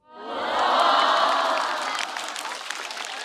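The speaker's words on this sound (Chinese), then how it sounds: "哎呀呀，还搁那鼓掌！" A comedy show audience breaks into applause, clapping and cheering. It swells quickly into a dense, sustained roar that stays steady and full for several seconds, with no one speaking over it.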